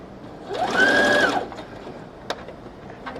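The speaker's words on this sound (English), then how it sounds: "pull it out gently as we're going so we don't sew through two layers of fabric here" A sewing machine stitches fabric for a hair scrunchie in a single short, close burst of rapid mechanical whirring lasting about a second, followed by quiet handling clicks as the fabric is adjusted.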